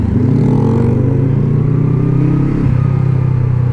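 A motorcycle engine hums steadily while riding, loud and close, holding a constant drone with a brief dip in pitch as the rider shifts.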